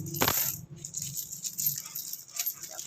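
Peso coins clink and rattle as they are dropped during counting, with a sharp metallic hit near the start followed by lighter scattered jingles, close and alone.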